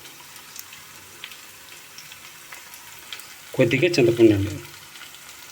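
Masala tindora (ivy gourd) frying with curry leaves in a pan, a sudden loud sizzle bursting in near the end for about a second before fading, with a speaking voice over the quiet lead-in.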